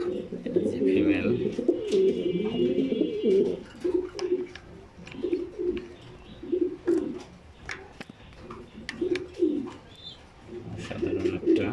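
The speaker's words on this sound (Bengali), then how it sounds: "সাধারণ একটা ফিমেল কবুতর, অনেক সুন্দর একটা ফিমেল কবুতর।" Pigeons coo in low, throaty, rolling phrases that repeat steadily throughout, close and fairly loud, from a newly paired male and female in a domestic loft, with a few faint chirps and clicks above them.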